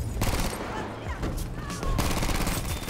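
Gunfire in the Battlefield V video game on Wake Island, with dense bursts of shots and rattling automatic fire running throughout, loud and close, with a voice speaking over the shooting.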